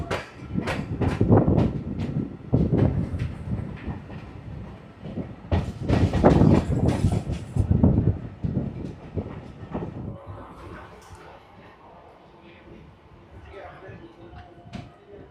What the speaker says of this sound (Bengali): কৃষ্ণনগর স্টেশনে এন্টার করছি এটা খুব সম্ভবত চার নম্বর প্ল্যাটফর্মে দাঁড়াবে